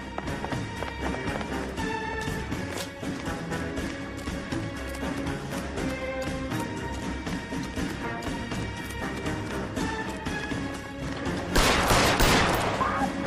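Rapid bursts of gunfire from the L.A. Noire video game ring out over a busy musical score, with a louder, denser burst of shots near the end.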